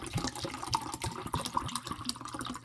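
Water poured into a Canadian single meal ration pouch of hashbrowns with bacon, a steady close splashing and trickling fill lasting a few seconds with no talk.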